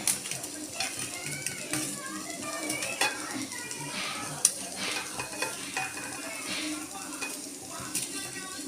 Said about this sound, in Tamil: தண்ணி விட்டு பரட்டலை, அதில் நறுக்கின அந்த ஈரப்பதத்திலேயே பிரட்டி வச்சுருக்கேன்